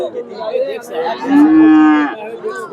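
A young Friesian bull calf at a cattle market lets out a single drawn-out moo, loud and close, rising in the middle of some shorter bleating calls and background noise.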